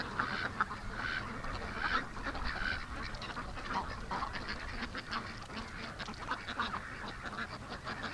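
A group of ducks quacks repeatedly near water, the calls overlapping in a busy, fairly close chorus that carries on for several seconds against outdoor background noise.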